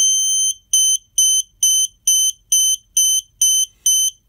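A Snap Circuits horn blares in rapid, evenly spaced bursts, loud and piercing, switching on and off in time with the flashing LEDs of a light tunnel.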